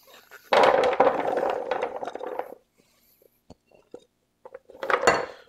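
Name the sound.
butternut squash poured and spread onto a sheet pan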